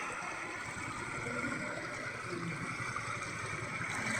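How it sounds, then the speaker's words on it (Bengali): Boat travelling along a river at Jaflong, a steady low motor drone with broadband water wash and hiss, continuous and moderately distant, with no voices. "নৌকা চলতেছে।"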